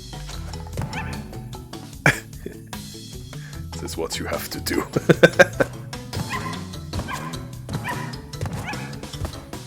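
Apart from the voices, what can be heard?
dog-like barking noises from a character in the video game Crash Bandicoot Trilogy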